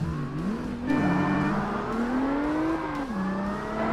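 An Audi B5 S4 engine races in Forza Motorsport, droning steadily and close as the revs climb and drop with each gear change, with no one talking over it.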